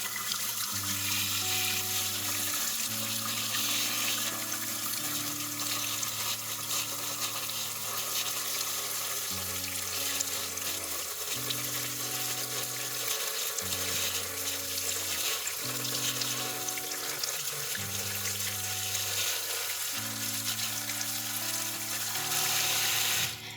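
Tap water runs steadily into a kitchen sink over a small strainer while soil is rinsed from an Alocasia Green Velvet's roots, a continuous close hiss of flowing water mixed under loud background music.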